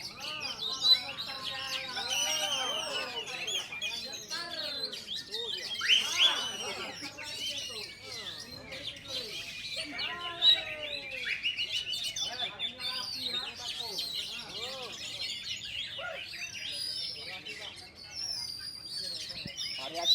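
Songbirds competing at an Indonesian bird singing contest pour out dense, continuous chirps, trills and whistled phrases close by, while people talk underneath throughout.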